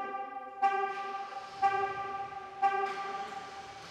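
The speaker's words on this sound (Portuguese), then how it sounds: "A buzina tocou e tem um Chevrolet Virus ali no ele painel." A Chevrolet car horn sounding in a garage, a brassy multi-tone honk held continuously with three slight pulses of emphasis, moderately faint.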